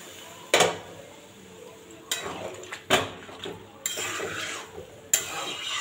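A metal spoon scrapes and knocks against a cooking pot while curry is stirred with salt added, several separate clattering strokes spaced irregularly over a faint background sizzle.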